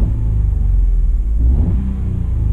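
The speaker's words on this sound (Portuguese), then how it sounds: "se eu der aqui uma aceleração" A car engine idles with a low rumble, then rises briefly in a mid-clip rev as the accelerator is pressed and falls back to idle; close and steady, with no talking.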